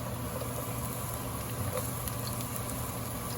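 Hot oil sizzling in a wok turned up to full heat for a stir fry, a steady dense crackle and hiss that holds evenly throughout at close range, with no talk over it.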